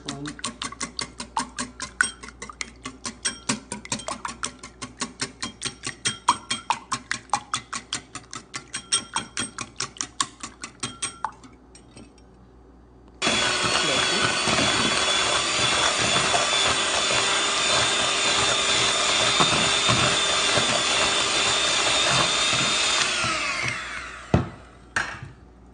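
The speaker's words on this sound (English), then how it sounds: "So I whisk these 3 eggs carefully." Three eggs for a Jamaican flag cake batter are whisked by hand in a bowl, first in rapid rhythmic clicking strokes, then a dense, louder whirring of steady beating.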